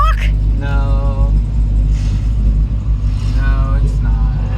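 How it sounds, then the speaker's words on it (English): At a Cars and Coffee show, several cars rev their engines. The revving is a loud, steady rumble with rising engine tones, heard under crowd chatter and nearby talk. "we got some cars being obnoxious and revving their engines up"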